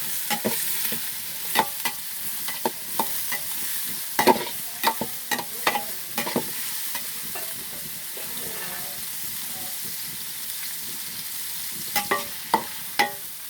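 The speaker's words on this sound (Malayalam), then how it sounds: "അപ്പോൾ നമ്മുടെ സവോളയെല്ലാം നന്നായി മൂത്ത് വന്നിട്ടുണ്ട്." Sliced onions frying in a pan for chicken chukka, a steady close sizzle punctuated by repeated sharp scraping stirs of a spatula, with no talking.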